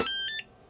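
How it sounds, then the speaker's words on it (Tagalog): An NFC fingerprint relay control module's buzzer sounds its lower-pitched admin tone: a quick pair of short electronic beeps, fairly faint and close, with no talking. "Sa admin, mababa yung ano niya, yung tono ng buzzer."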